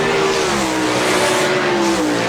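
360 sprint cars race at Park Jefferson Speedway, a loud, continuous engine roar with a sustained high whine that shifts in pitch as the cars run past.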